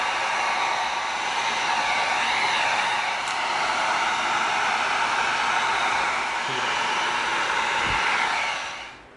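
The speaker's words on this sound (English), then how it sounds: "We're gonna bring our heat gun in." A heat gun blows on EVA foam for a Keyblade prop, a steady, loud airy rush held close for several seconds before it cuts off at the end.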